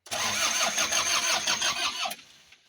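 An old diesel Mitsubishi L300-type Bison car cranks with a rapid rhythmic churning that lasts about two seconds, then cuts off abruptly, heard close and loud without speech.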